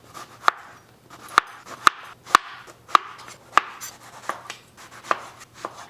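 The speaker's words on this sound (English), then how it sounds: "cut it longitudinally, and you want to make about 1/4 to 1/2 inch thick slices" A knife cuts eggplant lengthwise into quarter- to half-inch slices on a cutting board, giving about nine crisp, evenly spaced thunks close by with no talking.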